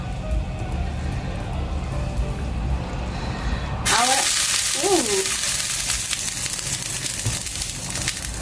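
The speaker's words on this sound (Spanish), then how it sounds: "Ahora lo que voy a hacer es bajar el fuego y que vaya cociéndose la carne bien" Chicken and vegetables for a fideuá sizzle and fry in a pan, the sizzle turning loud and steady partway through with stirring scrapes over it.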